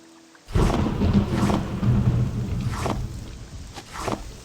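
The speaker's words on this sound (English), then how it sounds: "Hopefully that storm effect isn't stupid loud again." A Morrowind thunderstorm weather effect: rain and rumbling thunder start abruptly and loudly, with heavy rolling surges and hissing rain that swell and fade.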